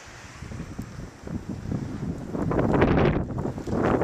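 Blizzard wind on Long Island roars in gusts, driving blowing snow past the microphone, rising and falling as a broad, loud rush that builds toward the end.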